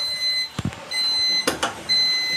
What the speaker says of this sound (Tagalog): Emergency stop alarm.